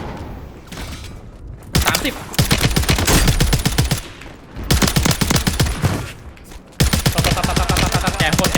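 Rapid automatic gunfire in the Warzone shooter, loud and close, coming in long sustained bursts broken by short pauses.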